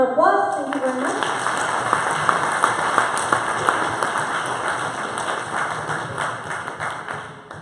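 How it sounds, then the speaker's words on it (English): Audience applause after a conference talk, a dense patter of many hands clapping that runs steadily for several seconds and tapers off toward the end. "let's give him another applause. Thank you very much."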